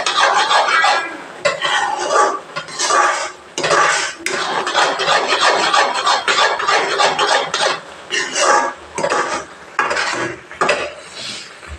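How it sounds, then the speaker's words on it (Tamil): A spoon stirs a thick homemade ABC malt mixture in a pan, scraping the metal close up in quick, repeated bursts with brief pauses between strokes. "நம்ம கை விடாத கிளறி விட்டே இருக்கணும்"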